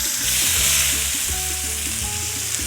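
Orange zest frying in hot oil, a steady close sizzle with soft bubbling crackle and faint stirring clinks, no voices.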